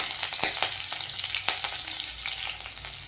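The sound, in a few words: cumin and green chillies frying in hot oil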